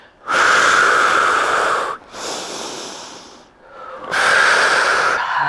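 Heavy, forceful breaths during a Pilates barre exercise, three long loud exhales or inhales through the nose and mouth with brief pauses between, close to the microphone with no talk.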